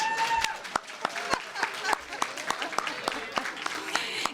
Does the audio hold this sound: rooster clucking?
no